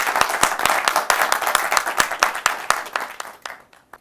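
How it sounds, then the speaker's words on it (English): An audience at a recovery-stories panel event applauds steadily, a dense patter of many hands that carries on briefly before tapering off and fading to quiet near the end, with no one talking over it. "Please, let's clap for the audience already."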